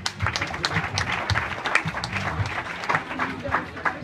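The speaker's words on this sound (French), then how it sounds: "Des applaudissements pour les deux, s'il vous plaît." Audience at a student awards ceremony claps for two honorees, irregular close claps with cheering and voices mixed through, lively and moderately loud.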